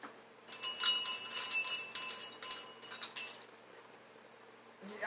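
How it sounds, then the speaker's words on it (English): A small bell rings in a few bright, clinking bursts over about three seconds, fairly close and clear, then falls quiet before a last faint strike; no one speaks over it. "Where's my bell?"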